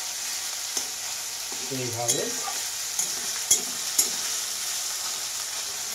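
Ripe tomatoes and onions fry in a pan, a steady hissing sizzle with light scraping and stirring clicks, while a voice speaks briefly in the middle.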